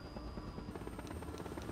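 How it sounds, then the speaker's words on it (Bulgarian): Helicopter in a video game, its rotor chopping in a fast, even pulse with a whining engine tone above, close and steady for the whole short stretch. "Хеликоптера!"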